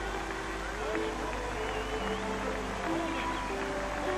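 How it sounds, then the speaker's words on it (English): A large outdoor crowd at the 1979 papal Mass in Limerick cheers and applauds in a steady, dense roar of clapping and voices, with faint singing and calls drifting over the continuous wash. "But not all the cheers, the applause, the waving and the banners, not all of this can postpone the departure"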